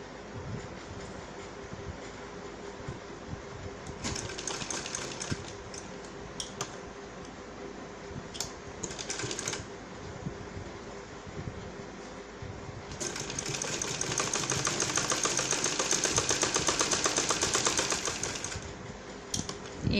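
Sewing machine stitching piping onto a neckline, a steady close mechanical whir with bursts of faster running, loudest and longest near the end.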